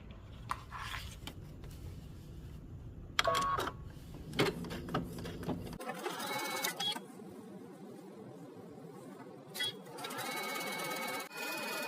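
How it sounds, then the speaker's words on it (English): A sewing machine stitches a long fabric edge with a 3/8-inch seam, running in close mechanical bursts with short pauses and clicks between them, then settling into a steady, faster whir. "we're going to take it to the machine and we're going to stitch the long edge and the unmarked end in a 3/8 of an inch seam"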